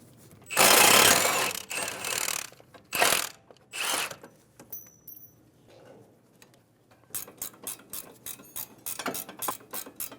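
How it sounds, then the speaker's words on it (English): A 17mm socket on a ratchet loosens the caliper bracket bolts on a 2011-2014 Hyundai Sonata's front brakes, giving bursts of rapid clicking, then a quiet gap and a long run of quick close-up ratchet ticks. "Using a 17mm socket, we're going to remove the caliper bracket bolts."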